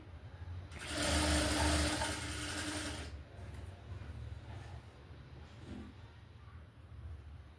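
A sewing machine stitching blouse fabric, running in one loud mechanical whirring burst of about two seconds before stopping, leaving a quieter background hum with faint handling noises.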